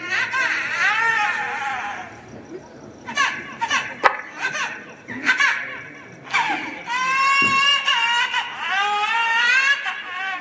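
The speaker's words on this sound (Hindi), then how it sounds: "बालक के रोने की आवाज" A baby cries in a Hindi audio story, a sound effect of repeated wailing bursts broken by short pauses and then one long sustained cry. A narrator's voice is faintly present.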